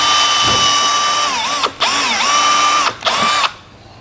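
A power drill bores out a rivet during a Curt trailer hitch receiver installation on a vehicle, a loud steady whine that dips and bogs twice under load before stopping.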